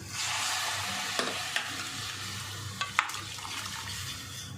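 Cooked mutton curry sizzles in a pan while a utensil stirs it, a steady frying hiss broken by a few sharp scrapes and clinks against the metal.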